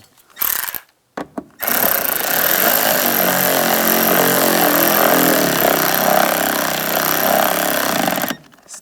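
A power tool whirs steadily for about seven seconds, driving a screw to secure a door trim cover on a 2011-2025 Dodge Durango during a front window regulator replacement, after a few short handling knocks; close and loud, with no talking.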